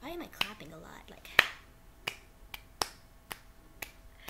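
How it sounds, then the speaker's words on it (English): Sharp hand claps ring out one at a time at irregular intervals, about seven crisp, fairly close smacks, with a brief stretch of talking at the very start. "why am I clapping a lot?"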